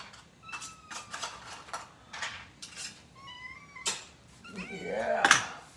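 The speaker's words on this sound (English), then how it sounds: "so you guys can see how excited these cats get" Feral cats excited at feeding time, several sharp meows in quick succession, close and fairly loud, with faint clinks between and a louder cry at the end.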